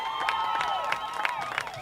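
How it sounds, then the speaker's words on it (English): Fans at a high school football game, York Catholic at Littlestown, cheer and whoop in a steady, fairly loud wash of many voices rising and falling together. "14-6, that gives the fans something to cheer about for sure"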